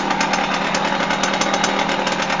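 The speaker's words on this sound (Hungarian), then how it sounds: "Az alapjáratot tartja" An old vehicle engine idles steadily with a deep, rumbling exhaust note. The sound is close and constant, with a faint mechanical chatter riding on top.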